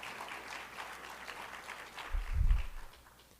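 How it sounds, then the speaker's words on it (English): A brief burst of audience applause thanks the sponsors at a political candidates' debate, scattered clapping from a room-sized crowd with a low thump as it swells near the end. "Let's give it a round of applause for our sponsors."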